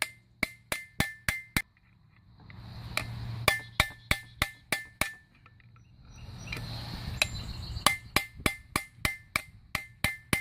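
Hammer striking metal parts during a differential teardown, bursts of quick ringing clanks in steady rhythm separated by pauses with shop rumble, close and loud, no talk.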